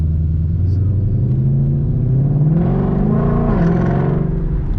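A stock sports car exhaust rumbles loudly and close, its deep engine note climbing briefly as the revs rise in the middle before settling back to a steady growl.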